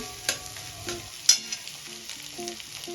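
Scrambled eggs frying in a pan, soft sizzling under a spatula's scrapes and taps as the egg is stirred and turned, close and fairly quiet, with no talk.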